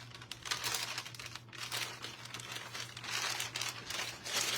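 Parchment paper crinkles and rustles in hand while glitter is applied to a tote bag, a steady close, papery crackle with small bursts of louder crumpling throughout, no voice over it.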